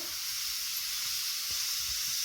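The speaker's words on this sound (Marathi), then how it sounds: "आता याला असं भाजून द्यायचं आणि मग तवा खाली उतरायचा" Green chilies roasting on a hot griddle with salt, a continuous close hiss and sizzle with occasional faint soft knocks beneath.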